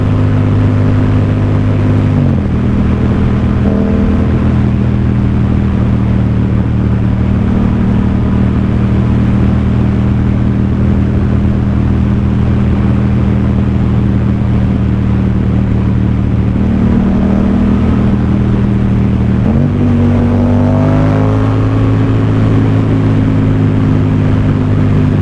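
A Yamaha XSR700 motorcycle's engine drones steadily while riding, a loud continuous hum with wind rush, pitch shifting during two gear changes and rising again as the bike accelerates.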